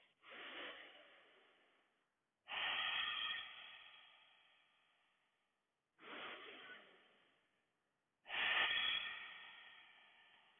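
Four long, slow breaths during a power yoga flow, each a loud airy rush that fades gradually, spaced by short silences, close and alone without talk.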